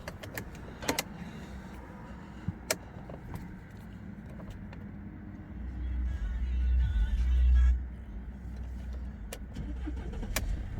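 A Mercedes-Benz E220 engine cranks and fires partway through, a deep rumble swelling loudly for a couple of seconds before settling into a steady, even idle, with scattered clicks and taps around it.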